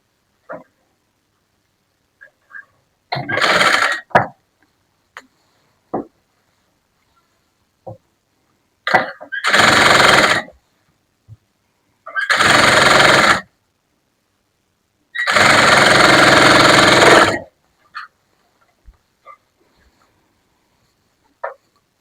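Sewing machine stitching a blouse with a long stitch setting, running in four distinct bursts of steady whirring, the longest about two seconds, separated by silences and a few soft clicks.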